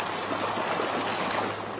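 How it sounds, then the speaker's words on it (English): Floodwater rushes down a flooded street in Licking County, a steady, dense roar of flowing water that holds an even loudness throughout, with no voices over it. "Gives you a sense of just how much water is continuing to rush down the street."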